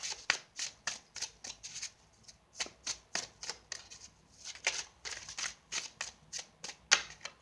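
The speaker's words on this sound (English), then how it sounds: "I do shuffle a lot in the beginning because I like to shuffle once the camera is rolling" Tarot cards shuffled in rapid, rhythmic riffles, crisp and close, repeating steadily with short pauses and no talking.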